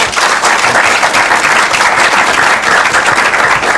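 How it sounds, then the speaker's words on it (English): Loud, dense applause from a school quiz competition audience, many hands clapping in a continuous wash close to the microphone, swelling slightly and steady for the few seconds it lasts. "A round of applause for them."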